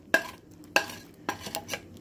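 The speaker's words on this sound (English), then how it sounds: "I'm gonna put the chocolate I just melted inside, scrape it out of the pan" Melted chocolate is scraped from a pan onto Rice Krispies for rice crispy treats, a few sharp metallic scrapes and taps of a utensil against the pan, spaced apart and fairly quiet.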